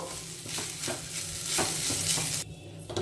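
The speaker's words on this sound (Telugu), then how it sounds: "ఇప్పుడు ఇదంతా కూడా కలిపేసేసుకొని మీడియం ఫ్లేమ్లో ఒక 2 నిమిషాలు ఫ్రై చేసేసుకోవాలి" A rice mixture stirred and fried in a pan over a medium flame, with a steady close sizzle and repeated scraping strokes of a spoon, moderately loud with no voices.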